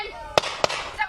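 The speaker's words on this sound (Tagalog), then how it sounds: "Umaalingangaw naman ang putok ng baril sa tubuhang yan sa Sitio Cogon" Two sharp gunshots crack out in quick succession over a sugarcane field in Sitio Cogon, Santa Catalina, Negros Oriental, moderately loud with a short echo, against background noise.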